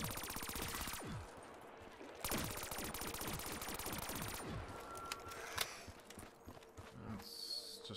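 Rapid machine-gun fire in a Call of Duty Black Ops 3 custom zombies map, loud sustained bursts broken by brief pauses, with spent-casing tinkles and game noise.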